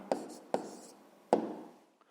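Handwriting a maths answer on paper, three sharp taps of a pen followed by short scratching strokes, faint and close, with no talking.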